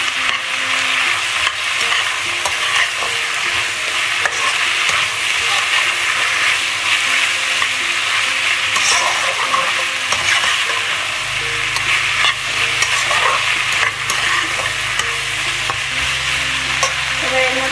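Chilli paneer with vinegar is stirred in a frying pan, a loud continuous sizzle close up with scraping spatula strokes and a low hum joining partway through.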